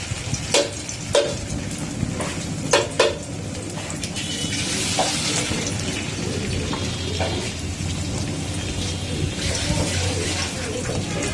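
Mustard flower fritters fry in hot oil with a steady, close hiss. A few sharp clinks of utensils sound early on, and then the sizzle continues on its own.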